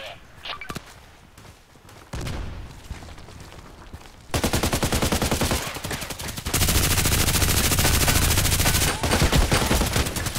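Rapid automatic fire from the RPKT machine gun in the shooter game Contract Wars: a quieter opening, then from about four seconds on a loud, continuous stream of tightly spaced shots that grows denser and heavier toward the end.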